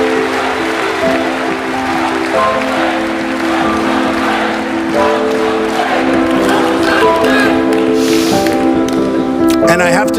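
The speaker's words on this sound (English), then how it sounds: "it is so nice to hear you cheering for what I just said" A crowd at a Trump speech cheers and applauds steadily for several seconds, a broad roar of claps and voices with someone talking over it.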